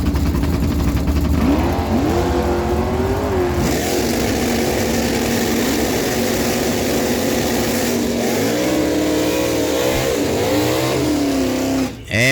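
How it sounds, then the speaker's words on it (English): A 1967 Chevy Camaro with a 350 small-block engine launches at a drag strip, its engine roaring loud and sustained and climbing through several revving pitch sweeps, with crowd and track ambience underneath and no speech. "Gary Keen's on the right side out of Brooklyn, bringing in the 67 Chevy Camaro, 350 small block power"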